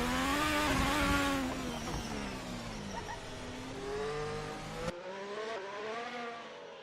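Racing car engine at Monaco, loud and close, revving high and blasting through the tunnel in a Premier Series qualifying lap, pitch rising and falling with gear changes, then cutting sharply to a quieter, more distant engine drone.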